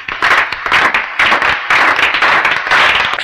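Several people clapping in bursts during a casual home vlog, close and fairly loud, with brief pauses between rounds of claps.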